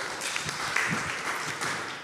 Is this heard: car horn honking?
no